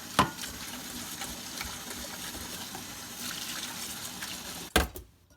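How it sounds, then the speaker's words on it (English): Running water rinses peeled shrimp with the tails left on, a soft continuous splash and trickle with a sharper clatter at the start and another near the end. "now I'm going to wash it once more with water."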